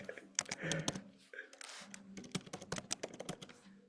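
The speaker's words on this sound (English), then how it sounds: "Can you type accumulation?" Rapid clicking keystrokes on a computer keyboard, a close burst of taps with a short pause, then another quick run of keys, with faint speech in the background.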